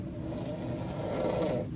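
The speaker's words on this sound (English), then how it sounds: "My cabin was tiny and shared with someone who snored." A person snoring in a tiny shared cruise ship cabin, a steady rasping drone that swells louder toward the end and carries on alone, with no talk over it.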